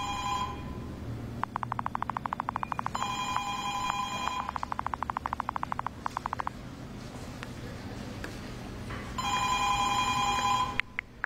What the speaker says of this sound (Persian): این تلفنش به هم زنگ میخوره، یکی هم نیست جواب بده